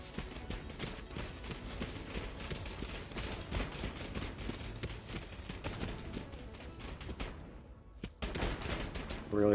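Dense, continuous gunfire in the video game Beyond the Long Night, with bursts of rapid shots layered close together, a brief lull near the end, then the shooting resumes loudly.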